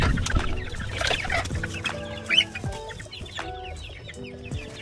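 A Brahma chicken clucking on a small farm, a series of short, close, fairly soft clucks in uneven rhythm with a few higher calls from other fowl around, no talk.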